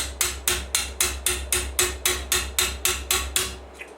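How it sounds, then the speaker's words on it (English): A hammer strikes a rod driven into an air rifle barrel to clear a lodged pellet or slug, about fourteen evenly spaced sharp metallic blows, each ringing briefly before the next, with nothing else heard. "I'll get a hammer on that"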